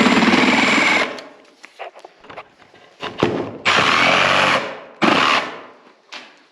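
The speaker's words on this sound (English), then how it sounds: "I'm going to use my trusty jigsaw." Jigsaw cutting wood for building stairs, loud buzzing bursts of cutting that start, stop and restart several times with quiet pauses of handling noise between them, no talking.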